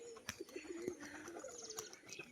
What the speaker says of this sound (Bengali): হলুদ চোখের নটটা কিন্তু এবার বাজি দেখাবে, দেখুন আওয়াজ দেখুন ডানায়